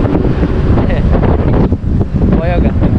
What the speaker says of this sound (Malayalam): പോയൊക്കെ നല്ല കാറ്റുണ്ടല്ലേ, നല്ല കാറ്റുണ്ട്.